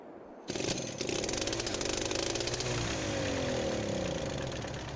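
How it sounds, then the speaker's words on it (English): A tractor engine in Farming Simulator 22 starts up and settles into a steady mid-pitched idle hum, with a faint rising whine near the end; loud, continuous, no talk. "Now, the actual tractor sound doesn't sound bad."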